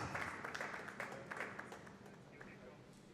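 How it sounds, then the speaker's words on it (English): Applause from the crowd at a squash tournament match in Houston, a dense wash of clapping that starts strong and gradually fades, with no talk over it. "a big round of applause for Egypt's Hannah Moataz"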